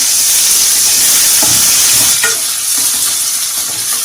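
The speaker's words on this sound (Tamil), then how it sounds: "இஞ்சி பூண்டுடைய பச்சை வாசனை போற வரைக்கும் அதை நல்லா நம்ம வதக்கிக்கலாம்." Onion, garlic and ginger-garlic paste sauté in a hot pan for a Chettinad pepper prawn fry, a loud steady sizzle with a few stirring scrapes partway through.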